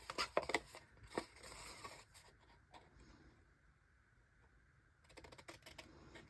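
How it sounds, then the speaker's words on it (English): Scissors snip through a paper glue tab on a handmade matchbox, giving a few quick close crisp cuts and rustles, then near silence before a last burst of faint paper handling. "And cut my glue tab."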